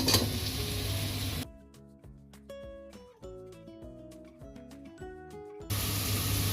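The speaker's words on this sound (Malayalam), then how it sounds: "ക്യാപ്സിക്കം ഇനി ക്യൂബ് സൈസിൽ കട്ട് ചെയ്തതാണ്, അതോടെ ഇട്ട് കൊടുക്കാം." Cube-cut capsicum dropped into a hot pan for a one-pot chicken mandi sizzles with a loud hiss at the start and again at the end, with a stretch of music between.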